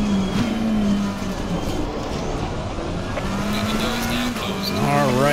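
Race car engines roar continuously in a GT racing game at Donington, with Lamborghini and McLaren cars running side by side, steady engine tones shifting pitch and a rising rev near the end, mixed with possible tire squeal.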